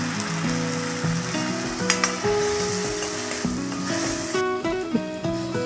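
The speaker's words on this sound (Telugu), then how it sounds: "కాసేపు వేగనిద్దామండి." Prawns and green chillies fry in a pan with a loud, constant hissing sizzle, broken by a few light clinks and scrapes of a ladle stirring them.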